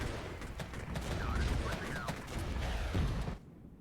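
Dense volleys of gunfire from Bradley fighting vehicles in a tank battle video game, a steady loud barrage of overlapping shots and blasts that cuts off abruptly near the end.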